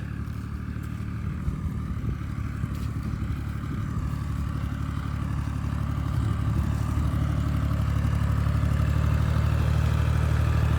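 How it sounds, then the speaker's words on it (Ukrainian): A small tractor engine chugs steadily while tilling a garden plot with a rotary tiller, a continuous mid-distance rumble with rattling clatter on top, no talking. "Йдемо глянемо, що там трактор як працює."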